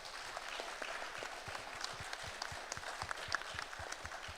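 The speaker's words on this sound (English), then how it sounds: "really big round of applause to our panelists" Audience at an AIIB annual meeting panel session applauding the panelists: a dense, continuous patter of many hands clapping, soft and distant, steady for several seconds.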